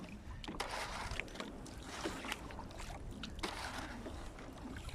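A kayak paddled through shallow backcountry water, soft repeated paddle splashes and sloshing with a faint hiss of wind in the background, quiet and steady with no speech.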